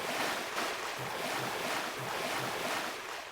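A character in a Unity role-playing game runs through shallow water, each stride making a soft rhythmic splash, about one every half second, over a steady watery wash.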